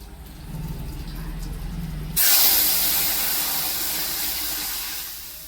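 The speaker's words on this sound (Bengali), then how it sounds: "এখন আমি তরকারিটা কড়াইতে ঢেলে দেবো।" A curry of elephant foot yam cooked with hog plums is tipped into a wok of hot oil with bay leaves, dried red chillies and cumin, bursting into a loud, sudden sizzle that settles into a steady hiss.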